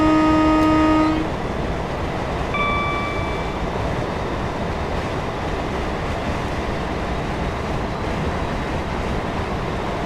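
A Class 319 Connex electric train in Train Simulator 2019 sounds a loud two-tone horn blast, then a shorter fainter toot, over a steady rumbling cab and track drone in thick fog.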